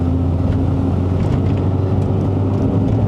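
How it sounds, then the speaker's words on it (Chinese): A Perodua Kelisa with a 110 PS K3-VE2 engine and four-speed automatic drones steadily in second gear, a loud continuous low engine hum from inside the cabin. "OK 了，我现在用2档 KGV2， 原装110匹马力哦"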